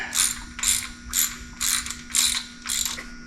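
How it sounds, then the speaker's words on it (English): Torque wrench ratcheting on small block Chevy cylinder head bolts, six crisp bursts of rapid clicks at an even rhythm, close and clear, with a steady low hum underneath and no talking. "Get the torque wrench set up, and we'll start on the sequence here."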